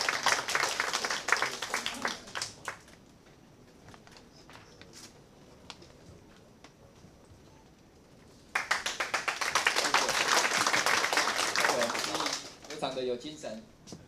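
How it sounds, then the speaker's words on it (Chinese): A welcome for the deputy chairman of the agriculture council at a press conference on fishing-vessel monitoring: after a stretch of speech and a quiet pause, a burst of loud crowd applause runs for about four seconds, then speech resumes. "掌声欢迎副主委后。"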